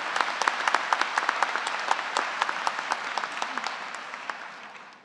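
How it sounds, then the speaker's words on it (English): Applause from the audience at a university undergraduate commencement ceremony, crisp individual claps forming a steady patter that gradually thins and fades toward the end. "Give her a big round of applause."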